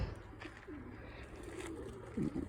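Pigeons coo softly in a loft, low rolling calls rising near the end against a faint background hum.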